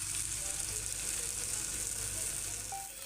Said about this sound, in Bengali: এইভাবে কিন্তু 1 মিনিট মতন আমি ডালটাকে নাড়িয়ে নেব